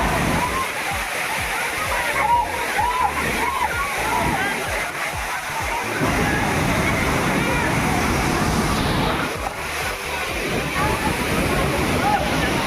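Kempty Falls waterfall in Mussoorie, Uttarakhand, a loud continuous roar of rushing, splashing water filling the whole stretch, with a voice talking over it at times.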